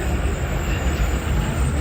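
Pakistan Express 46 Down standing at Gujar Khan railway station, giving off a steady low rail rumble with a faint rhythmic rattle, continuous and moderately close.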